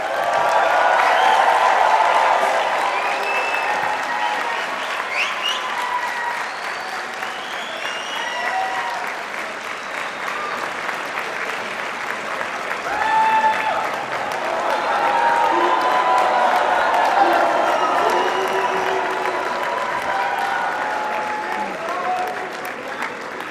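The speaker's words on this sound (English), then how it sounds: "please give a round of applause and a huge" An audience at a college convocation claps steadily for graduates in a dense, sustained round of applause that swells and eases over about twenty seconds, with faint cheers mixed in.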